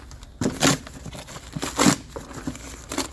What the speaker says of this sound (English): Box looks like it's kind of falling apart, so we'll cut this open.